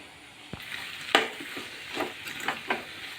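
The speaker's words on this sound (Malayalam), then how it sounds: "ഇനി നന്നായിട്ടൊന്ന് ഇളക്കി ഒന്ന് യോജിപ്പിക്കാം" Onam sadya stew being stirred and mixed in a pan, a handful of separate scraping, clattering strokes against a faint sizzle, spaced irregularly and fairly close.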